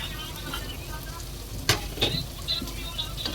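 Goat trotters fry in a pan with mint and coriander, a steady close sizzle broken by stirring scrapes and a few sharp utensil clinks.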